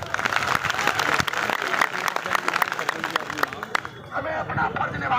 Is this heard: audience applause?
yes